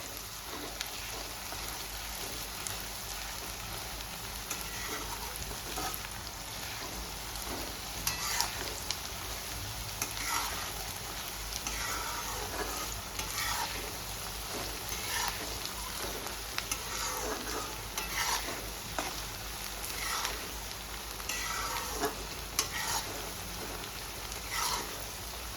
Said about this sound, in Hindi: प्याज को हमें गोल्डन फ्राई करनी है।